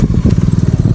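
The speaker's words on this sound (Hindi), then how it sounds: "ये वाटर क्रॉसिंग है, इसमें से निकलती हुई हमारी डोमिनार" A Bajaj Dominar on worn road tires rides through a water crossing near Zojila Pass in Ladakh, with a loud, close, rhythmic engine chug and splashing clatter.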